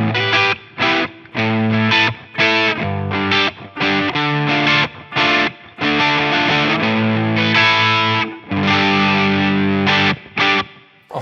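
Heavily distorted Harley Benton Aeolus Frost Flame electric guitar on its single-coil pickup plays a choppy series of sustained chords and short stabs, loud and close, with brief gaps between the phrases and nobody talking.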